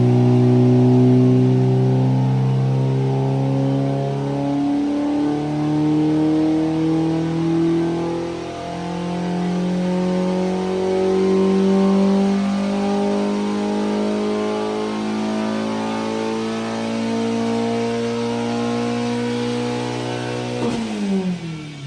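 A BMW Coupé Cup race car engine runs on a dyno, rising loud and close through repeated revving sweeps for about twenty seconds before cutting off abruptly.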